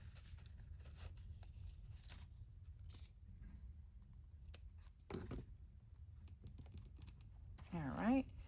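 Scissors cutting off a test signature of paper for a dust jacket journal, several quiet crisp snips and rustles close by over a low background.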